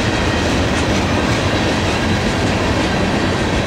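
Norfolk Southern manifest freight train rolling past up close, a loud steady roar of wheels and cars with a continuous rumble and faint rhythmic clatter throughout, no voices.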